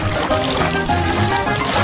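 Blue-coloured water pours steadily onto a cake, a continuous splashing trickle that lasts the whole stretch at close range with no talk over it.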